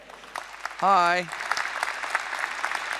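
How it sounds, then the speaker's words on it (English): Applause from an audience at a security conference welcoming a speaker, steady broadband clapping throughout, briefly overlapped near the start by a loud spoken greeting. "Give him a warm applause."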